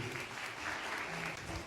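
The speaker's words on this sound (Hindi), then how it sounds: "इम्तियाज, तालियां बजाते चलिए।" Audience applause at a National Voters' Day event at a college in Kathua, a steady even patter of clapping filling the hall throughout, moderately loud and without a break.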